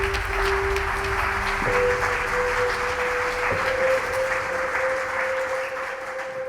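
Audience applause fills a conference hall at a space agency session, a dense, steady crowd clapping that holds at full strength throughout, with a faint tone running beneath it.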